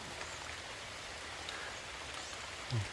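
Steady rain falling during a storm in rural Thai countryside, a dense even patter of drops close by with no voices, one brief low thump near the end.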